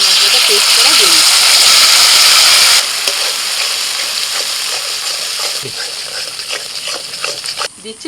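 Spice paste with kasuri methi hits hot oil in a pan, giving a loud, steady, close sizzle that eases slightly as it is stirred, with scraping and clinks toward the end.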